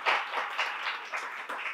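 Short burst of audience applause at a social-service exchange event, many people clapping together in a steady, even patter at moderate volume with no talking.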